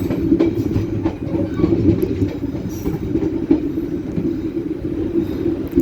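A KA Gumarang business-class passenger train runs on the double track between Jatinegara and Bekasi, passing a busway flyover, with a steady close rumble and rhythmic clickety-clack of wheels on rail joints throughout.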